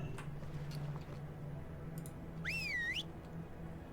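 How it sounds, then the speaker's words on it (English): The Draenei Orphan whistle in World of Warcraft sounds one bright, warbling rising-and-falling whistle lasting about half a second, standing out over faint game ambience and soft ticking. "Use the Draenei Orphan whistle to call for the ward you're looking after during Children's Week."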